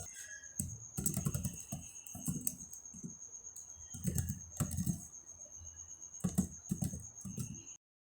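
Someone types on a computer keyboard in quick bursts of soft clicking, with short pauses between, close by and quiet over a faint steady hum.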